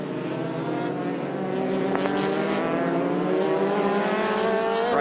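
Formula Ford race cars lap Winton Motor Raceway during a Stars and Renegade Series race, a steady, loud drone of several engines with rising and falling pitch tones running throughout, no talk.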